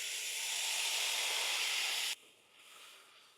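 Masala paste hits hot oil with whole spices in a kadhai, giving a sharp, bright hiss for about two seconds before it drops to a softer, quieter sizzle.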